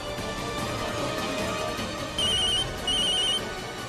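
A telephone rings with two short, bright electronic trills over a dense, steady background of music and room noise in a Hindi television drama household scene.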